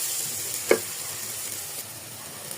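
Mustard and soybean oil frying in a pan gives a steady, soft sizzle, with one brief stirring clank near the start, close by and without talk.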